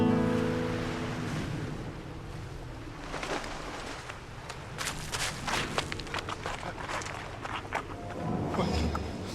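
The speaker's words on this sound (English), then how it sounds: "the harumphing sound of the waves started to sound like a jet" Ocean waves in the Sea of Cortez surge and wash continuously, a broad rumbling roar with louder breaking swells toward the end and no talking.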